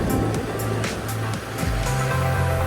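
Waves wash onto a Lithuanian beach on the Baltic coast, a steady broadband surf roar with a low engine-like rumble underneath and faint wind, fairly loud and without speech.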